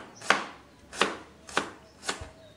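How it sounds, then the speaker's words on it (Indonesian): Shallots and garlic being thinly sliced with a knife on a cutting board: four crisp, evenly spaced chops, close and clear, with no talking. "Di sini juga kita akan tambahkan lagi ada bawang merah dan juga ada bawang putihnya. Ini mau kita iris tipis-tipis juga."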